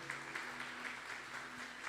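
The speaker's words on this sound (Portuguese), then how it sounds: "Vamos aplaudir Jesus em forte." Church congregation applauding during a worship service, a steady wash of clapping held at an even, moderate level with no voices standing out.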